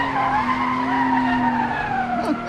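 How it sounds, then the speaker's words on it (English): Car tires squeal continuously through a power slide in a racing video game, a sustained tonal screech over engine noise that bends and fades near the end. "We kind of lost grip and got in a little power slide"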